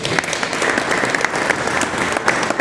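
Congregation at a church service clapping together, dense, loud and continuous close applause filling the whole moment, with a few rhythmic accents.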